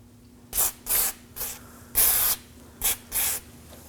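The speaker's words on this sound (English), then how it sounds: "Let's apply some never seize on the hub." Brake cleaner sprayed onto the front wheel hub of a 2014-2020 Acura MDX during a brake job: six sharp aerosol hisses in quick succession, close and loud, with no talking.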